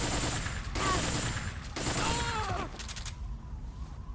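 Gunfire in Metal Gear Solid 3 bursts out in two or three dense volleys with mechanical clatter, loud and close, then drops into a quieter game ambience at the end.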